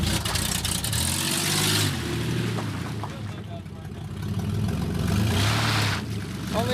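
A four-wheel-drive truck stuck in mud revs its engine hard in surges, the wheels spinning, with people talking and shouting over the roaring motor.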